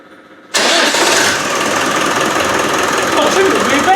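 A Land Rover 300Tdi diesel engine with a new starter fires up abruptly after a short crank and settles into a loud, steady, close diesel idle.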